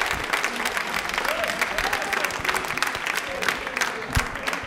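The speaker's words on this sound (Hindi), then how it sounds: "तालियां इनके लिए बजा दीजिए" A studio audience at a televised Hindi quiz program applauds in a dense, continuous wash of clapping, with voices and crowd murmur mixed underneath.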